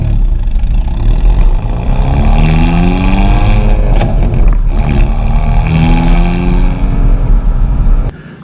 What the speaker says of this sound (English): The N mode has a more aggressive dampening rate. It makes your exhaust really loud.